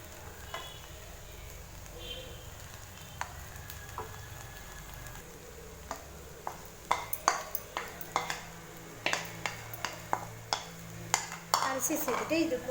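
Cooked rice going into a pan of scrambled egg and stirred, with a spoon clinking and scraping against the pan in quickening bursts near the end, over a faint background hum.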